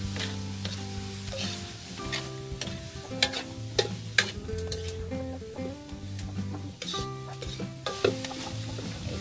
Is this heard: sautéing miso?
yes